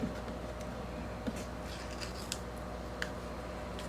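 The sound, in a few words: peeling a sticker back up off a planner page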